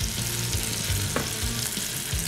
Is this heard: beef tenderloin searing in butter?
yes